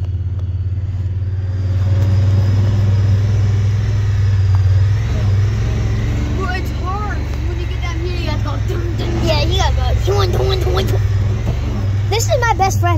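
Steady low engine rumble of a car being driven, close and loud throughout, with people talking over it inside the vehicle.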